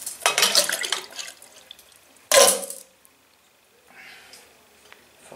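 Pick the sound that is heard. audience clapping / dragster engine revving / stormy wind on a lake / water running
water running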